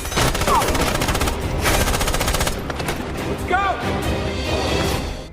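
Machine-gun fire and rapid gunshots blaze loudly through a war film scene as German troops launch an attack, dense bursts running nearly the whole time with a couple of sharp whistling ricochets.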